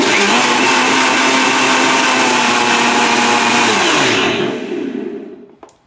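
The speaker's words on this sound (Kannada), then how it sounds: "ಈಗ ಅದಕ್ಕೊಂಚೂರು ನೀರ್ ಹಾಕ್ತೀನಿ, ಸ್ವಲ್ಪ ನೀರ್ ಹಾಕ್ಬಿಟ್ಟು ಮತ್ತೆ ಬ್ಲೆಂಡ್" Kitchen blender whirring steadily as it blends flaxseed buttermilk thinned with water, a loud continuous motor drone that runs for about four seconds before winding down and fading out.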